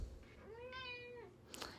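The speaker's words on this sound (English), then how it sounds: "And my cat is chiming in to agree." A house cat gives one clear, drawn-out meow with a rising then falling pitch, close to the microphone, followed by a short rustle.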